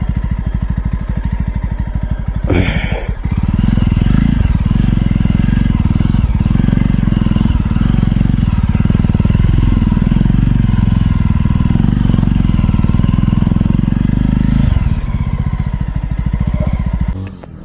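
A 2019 Jawa motorcycle rides off-road, its engine droning loud and close with a steady throbbing note that rises and falls with the throttle, a brief clattering burst near the start and a fade at the end.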